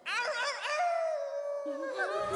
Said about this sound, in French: Il y a un loup!